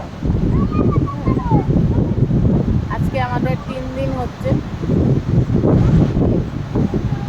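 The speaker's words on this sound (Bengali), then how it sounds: "সেই হাওয়া দিচ্ছে সমুদ্র পাড়ে" Strong sea wind buffets the microphone on the shore at Digha, a steady roaring rush that lasts the whole time while someone talks over it.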